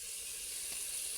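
Brief, steady sizzle of tomato and onion sautéing in a pan, a soft close hiss with no voices.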